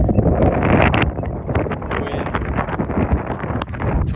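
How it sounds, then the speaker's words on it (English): Strong wind buffeting the microphone of a runner out on a training run, a loud, continuous rumbling roar with gusty swells and no talk. "22-mile-an-hour wind in my face for the first 9 miles."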